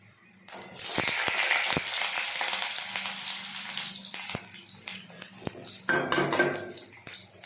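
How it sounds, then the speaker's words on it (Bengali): Pointed gourd goes into hot oil in a wok. A loud burst of sizzling erupts after a brief quiet start, then settles into steady frying, punctuated by metallic clanks of a spatula against the pan and a renewed surge near the end. "পটলগুলো একটু ভেজে নেবো, লাল লাল করে ভেজে তুলে নেবো।"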